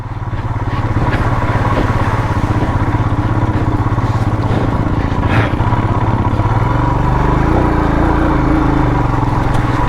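A Royal Enfield motorcycle engine thumps steadily on a muddy Himalayan trail, loud and close. The exhaust note shifts slightly as the bike slips and labors through the mud.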